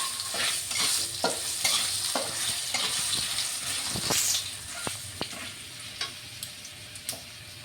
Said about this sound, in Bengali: এখন আমি আলুটা ছেড়ে দিলাম। তেলে, ওই তেলে আলুটা ভেজে নেব।